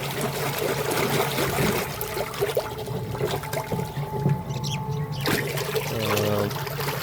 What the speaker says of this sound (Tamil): தண்ணி நல்லா ஃபோர்ஸாகவே தள்ளிட்டுருக்கு